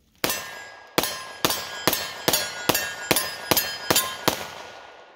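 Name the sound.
STK100 pistol rounds hitting steel target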